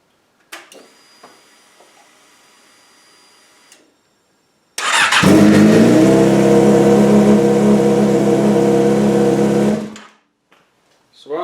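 A 2003 Yamaha R6 motorcycle cranks with a whine and ticks, then its engine fires loudly close by and idles high and steady for about five seconds before cutting off.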